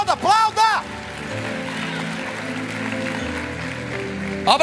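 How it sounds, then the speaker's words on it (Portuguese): Steady applause from a church congregation fills the middle, a continuous wash of clapping that starts and ends with a preacher's loud shouts. "Aplauda, aplauda, aplauda."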